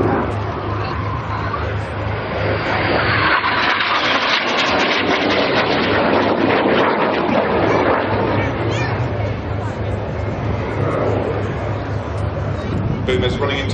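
Red Arrows jet aircraft flying low in a display at the 2009 Biggin Hill air show, trailing smoke: a loud, sustained broadband jet roar that swells as it passes and holds for the whole stretch, mixed with crowd hubbub.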